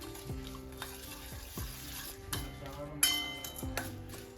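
A spoon stirs jaggery and milk together in a bowl, knocking against the side in a quiet, irregular series of clinks and scrapes, with a sharper tap near the middle.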